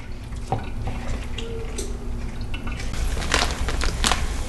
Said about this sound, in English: I just squeeze it with my hands like this. You want to squeeze out as much of the water as you can.